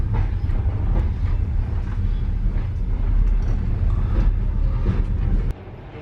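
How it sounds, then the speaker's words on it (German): Trans-Siberian train pulling out of a Moscow station, a steady loud low rumble of rolling stock with faint rail clatter, close and continuous, easing off abruptly near the end. "Ja, jetzt verlassen wir den Moskauer Bahnhof."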